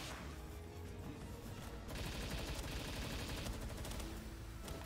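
Loud, dense blasts and crackling bursts from Palworld combat form a continuous roar, with a sharper surge of rapid, gunfire-like explosions in the middle.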